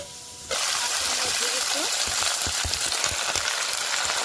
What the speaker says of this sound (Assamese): এতিয়া মই এইখিনি ধুনিয়াকৈ ফ্ৰাই কৰি লম অকমান ৰঙা ৰঙা অকমান গোল্ডেন হলে হৈ যাব